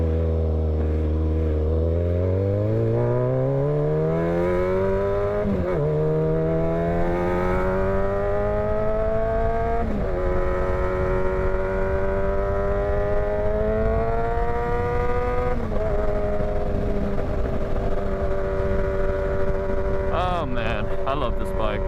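A motorcycle engine runs steadily close up while being ridden, its pitch climbing in stages through the gears and dropping between shifts, with wind rush over the top and no speech.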